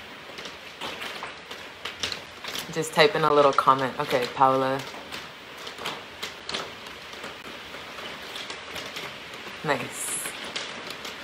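Steady rain falls during an outdoor live stream, a continuous hiss running through the whole stretch beneath people talking.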